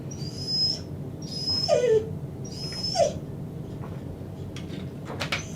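A Border Collie and Golden mix dog whimpers during a grooming bath, giving several short high-pitched whines in a row over a constant running-water hiss.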